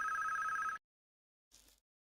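A telephone in the Police Quest 3 video game rings, a single loud electronic ring burst followed by a short fainter tone after a pause.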